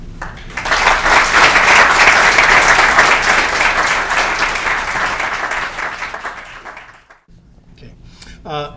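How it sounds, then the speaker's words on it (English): Loud, sustained applause from a large audience fills most of the clip, then fades out and gives way to a brief high whistle-like sound near the end. "please welcome Dr. Kwang Kim with a warm round of applause"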